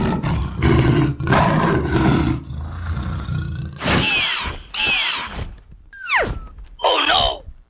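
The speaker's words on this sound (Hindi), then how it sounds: "मुझे तो यहाँ बाघ के गुर्राने की आवाजें सुनाई दे रही है" Tiger growls and roars in a cartoon scene, loud and close, with rising, sweeping calls in the second half over rumbling noise.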